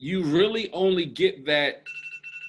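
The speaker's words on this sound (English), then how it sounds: "No, that's our alarm." An electronic alarm chirps in a quick, repeating pulsed pattern right after a person stops talking, fairly close and moderately loud.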